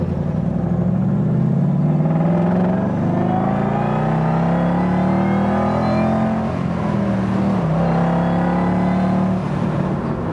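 A 1967 Ford Mustang restomod's engine pulls hard under acceleration, a loud, close, continuous roar rising steadily in pitch, with a brief dip near the end as it shifts before climbing again; no voices.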